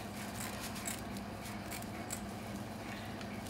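Scissors cut a semicircle around the thumb area of a plaster backslab for an above-elbow splint, giving faint, close snipping and crunching sounds in a soft, steady sequence with no talking.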